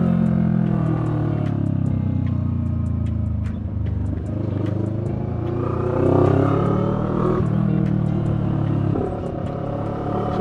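Riding a motorcycle through congested expressway traffic in the Philippines, with a steady engine drone and road rumble up close, other vehicles passing around, and brief clatters over the continuous noise.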